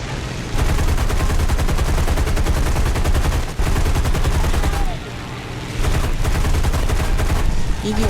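Sustained gunfire in the War Thunder combat game: dense, rapid automatic bursts rattling loudly and almost continuously, with brief pauses between volleys and a voice speaking over the shooting.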